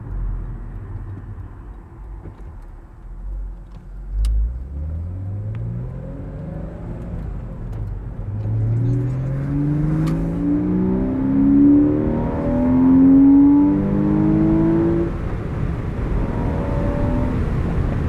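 A 2001 Porsche Boxster S engine revs up through the gears via a short-throw shifter, its pitch climbing repeatedly in long sweeping rises, loud and close throughout.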